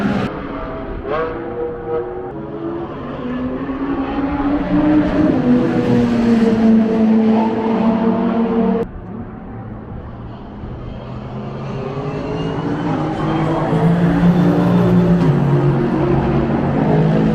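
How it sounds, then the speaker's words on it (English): Race cars at Silverstone circuit, including a Ford GT40, roar past one after another, engines rising and falling in pitch as they approach and recede, loud and close with no talking. "just then the GT40 came hanging around the corner"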